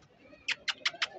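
Soft, nearby pigeon cooing with four quick, evenly spaced bursts in a row over a quiet background, from kept pigeons in Ratodero, Larkana.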